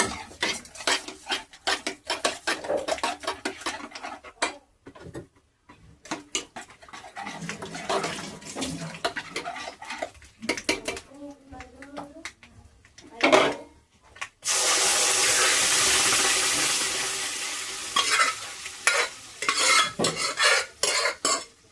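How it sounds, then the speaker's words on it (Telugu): Cooked lentils for brinjal dal are mashed with salt and stirred in a pot, giving busy scraping and clinking utensil sounds, then a sustained loud sizzle as they hit the hot tempering before stirring resumes; no one speaks. "కుక్కర్లో ఉడికిన పప్పులో ఉప్పు వేసుకుని మెదిపేసుకుని తాలింపులో వేసేసుకుందాం"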